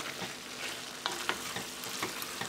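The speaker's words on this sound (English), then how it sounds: "Okay, I'm just going to saute this a little bit longer" Pork and sausage chili with onions sautés in a pot, a soft continuous sizzle with a few light scrapes of a spoon, quiet and close.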